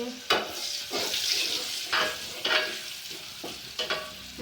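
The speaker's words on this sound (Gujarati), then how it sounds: "બે ડુંગળી આપણે નાખી છે વઘારમાં" Two onions hit a hot tempering of ginger, garlic and cashews in the pan, making a bright sizzle with bursts of stirring and scraping, close and fairly loud.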